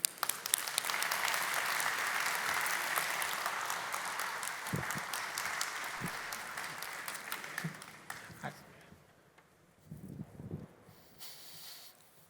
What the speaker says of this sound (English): a very big round of applause for Mihiar Ayoubi.